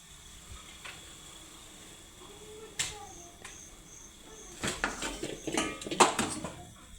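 Laddus are dropped into a pot of boiling water, making a flurry of short clinks and plops against the pot after a quiet stretch, with crickets chirping faintly in the background.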